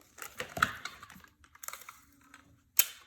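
Tape is pulled and pressed to seal a plastic bag onto the barrel of a homemade popcorn cannon, giving short close crinkles and sticky rips with a sharp tearing snap near the end.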